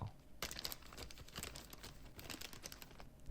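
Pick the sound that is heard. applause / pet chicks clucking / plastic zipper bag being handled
plastic zipper bag being handled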